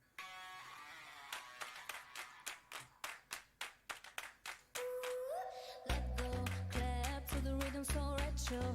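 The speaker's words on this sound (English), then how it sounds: "I like this clapping." Sharp hand claps in a steady rhythm open the song, about a dozen crisp beats on their own before a synth tone rises and full music with heavy bass comes in.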